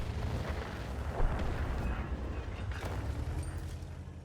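A tank cannon shot in a tank video game, with a low roaring blast and a rumbling tail running under continuous battle noise, fairly loud and close.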